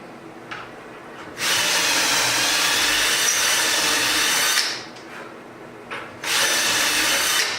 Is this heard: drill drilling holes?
yes